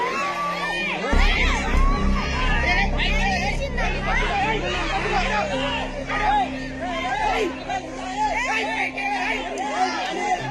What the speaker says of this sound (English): The crowd screams in fear and terror